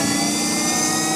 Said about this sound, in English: We can give it a little bit of throttle from the load motor.